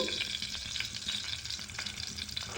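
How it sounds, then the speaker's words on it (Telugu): Mustard seeds and cumin sizzling in hot oil in a pot for tempering, a dense steady frying hiss with faint crackles, close and continuous, without speech. "ఆయిల్ కాస్త వేడైంది ఇప్పుడు మనం సాసులు జీలకర్ర వేద్దామండి"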